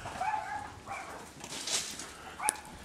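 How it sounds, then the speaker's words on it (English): A pet dog named Mutton barks a few short, sharp times nearby outdoors beside a small pocket-size camp stove, the yips separated by brief pauses, with one sharp high bark near the end. "There's my silly dog."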